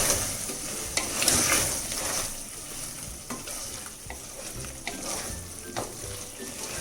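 Mutton biryani masala being stirred and mixed with coriander, mint and curry leaves in a pan, with a steady close sizzle and scraping stir strokes throughout, no speech.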